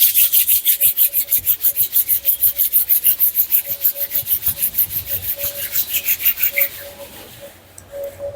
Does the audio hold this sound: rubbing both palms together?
yes